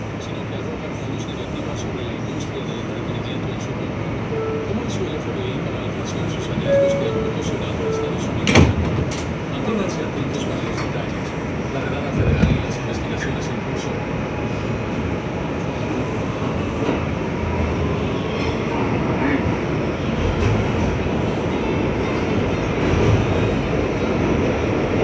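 Steady rumble of an R211A subway car riding a Euclid Avenue bound C local train in New York, continuous rolling rail noise with a couple of sharp clanks and jolts, heard from inside the car.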